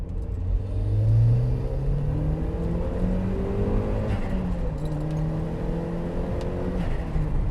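A turbocharged Mk1 Mazda MX-5 accelerates hard in second gear on a wet road, its engine note loud and close, rising steadily in pitch over a constant rumble with no talking.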